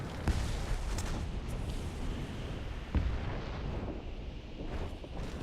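Tank cannon fire and a hit on an Italian M13/40 tank in the War Thunder battle game, heard as two sharp heavy blasts about three seconds apart over a constant rumbling battle din.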